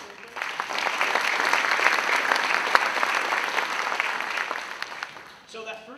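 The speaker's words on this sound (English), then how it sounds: "Give them another round of applause." A school audience applauds at a Basha High School concert with AMS students, a dense, steady wash of clapping lasting several seconds before fading out.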